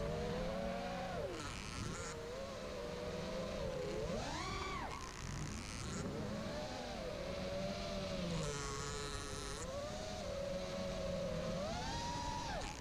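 An FPV quadcopter with damaged motors and a wobbling propeller whines through the air, its buzzing pitch swooping up and down as the throttle changes, steady and fairly close throughout with no talking.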